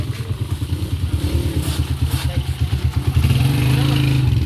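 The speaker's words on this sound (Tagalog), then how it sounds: "Ingay no guys, motor." A passing motorcycle engine rumbles nearby with a pulsing, throbbing putter that grows louder toward the end, a voice faintly underneath.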